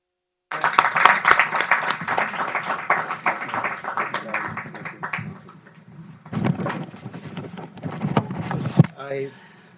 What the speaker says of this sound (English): I sensed a tepid round of applause.